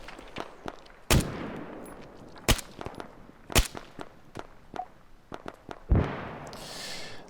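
Mk11 Mod 0 designated marksman rifle fires in Arma 3, with four loud, sharp cracks spaced about a second apart and fainter distant shots and rumbling echoes between them.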